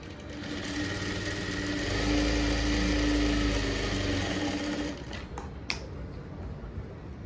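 A sewing machine runs while stitching blouse fabric, a steady mechanical whir that swells louder in the middle, then cuts off, followed by a few small clicks and handling sounds.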